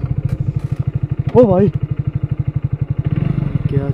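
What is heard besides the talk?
motorcycle engine running at night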